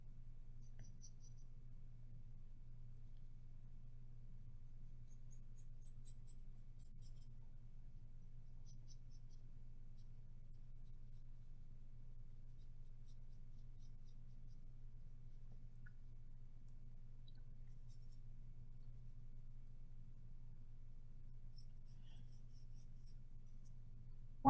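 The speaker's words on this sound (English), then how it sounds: "And then I draw what I see inside of my viewfinder." Pencil sketching a quick thumbnail drawing on paper: very faint, soft scratching strokes come in sparse little clusters over a quiet low hum.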